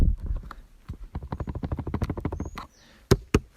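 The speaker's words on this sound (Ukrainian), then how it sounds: "сама ця кришка вона тарабанить" A Shad top case lid on a Lifan KPT200 motorcycle rattles in a rapid run of loose, clattering rattles with an uneven rhythm, close by, then a pause and two sharp knocks.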